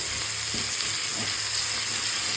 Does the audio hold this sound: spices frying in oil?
yes